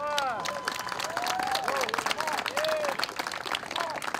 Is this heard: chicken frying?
no